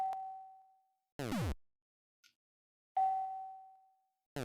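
Bright bell-like chimes ring out in Super Mario Maker, each clear tone decaying slowly, interleaved with short sweeping whooshes in a sparse, quiet pattern.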